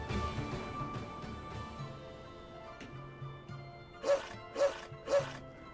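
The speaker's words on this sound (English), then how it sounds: "Saray, there's a dog here" A dog in the video game Tales of Zestiria gives three short, evenly spaced barks near the end, loud and close after a stretch of quieter game sound and music.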